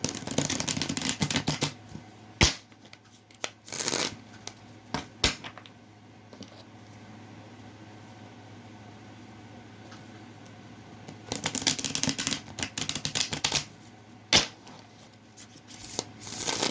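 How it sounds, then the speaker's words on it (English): A Golden Art Nouveau tarot deck being shuffled in a few short, crisp bursts of riffling cards, separated by quiet pauses and single sharp taps, close and fairly soft. "Give this a couple shuffles here."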